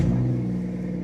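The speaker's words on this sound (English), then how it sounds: "it's time to get these cars started up and get them back in the garage" BMW M2 with N55 engine and M240i with B58 engine idling just after start-up, a steady low rumbling exhaust drone with strong low harmonics, close and loud, no voices.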